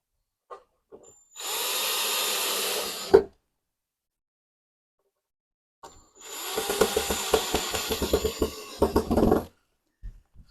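Two bursts of a power tool whirring as it drives screws while assembling a wall-mounted bathroom cabinet, the second longer with stuttering pulses as it drives in, separated by a quiet pause with small clicks.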